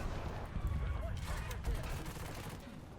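Tank machine gun fire from a Chieftain Mk.3 in War Thunder, low rumbling bursts with rattling impacts and heavy battlefield noise underneath, fairly muffled and continuous, mixed with a few brief vocal sounds.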